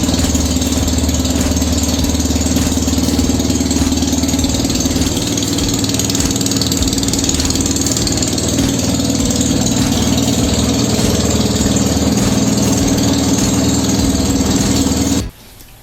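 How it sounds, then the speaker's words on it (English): A dune buggy engine runs steadily at a loud, constant idle, a rough mechanical rumble with slight knocking, cutting off abruptly at the end. "I started an engine"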